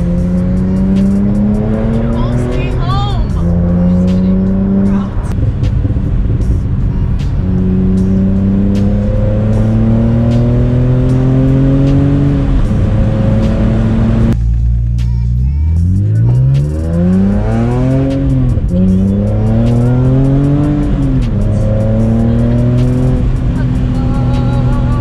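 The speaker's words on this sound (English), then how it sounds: "So these will be the last moments I'm driving the SMG." A BMW E46 M3 with an SMG transmission drives hard, its engine climbing through repeated revving pulls with quick pauses between gear changes, loud and close from inside the car, with one sharp drop in engine note midway.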